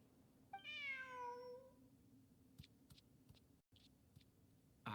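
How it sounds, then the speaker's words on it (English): A cat meows once in the video game Genshin Impact, a clear, rising then falling cry near the start, followed by a few soft clicks and taps in a quiet background. "Who's a good kitty?"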